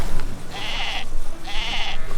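Sheep in Zelda: Tears of the Kingdom let out two clear bleats about a second apart, close and fairly loud over a soft game background.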